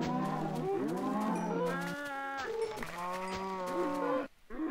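Cows in a modded blocky video game moo repeatedly, several long overlapping lowing calls in quick succession, loud and close, before a brief drop near the end.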